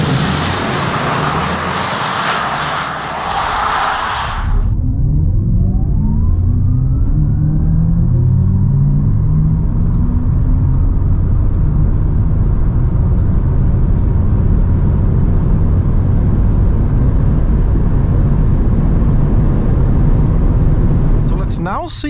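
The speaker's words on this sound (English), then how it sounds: "Now see how fast the RS e-tron GT goes 100 to 200 on the open Autobahn." An Audi RS e-tron GT electric car of about 650 hp accelerates from 100 to 200 km/h on an open Autobahn, a steady loud rising drone of motor and road rumble after a brief burst of noise, continuing unbroken to the end.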